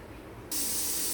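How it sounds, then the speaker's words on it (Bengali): A pressure cooker on the stove bursts into a loud, sharp hiss of escaping steam after a quiet moment, holding steady and close to the end. "প্রেসার কুকার দিয়ে আমরা সিটি মারতে দিলাম।"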